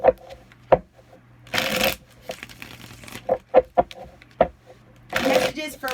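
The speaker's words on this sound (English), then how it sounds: "Let's shuffle up." Cards are shuffled in two short riffling bursts close by, with sharp taps and knocks of the deck scattered between them in an otherwise quiet room.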